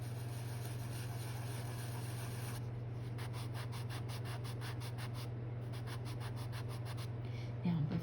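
Rapid rhythmic scratching of a charcoal pencil on paper, close up, layered over a steady low hum.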